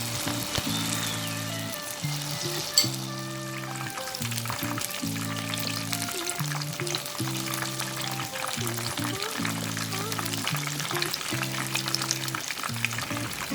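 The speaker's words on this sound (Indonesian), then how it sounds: "masukkan bola-bola daun singkong ke dalam adonan tepung dan goreng sampai matang" Steady crackling sizzle of flour-battered cassava leaf balls deep-frying in hot oil, continuous and close, with a repeating low musical pattern running underneath.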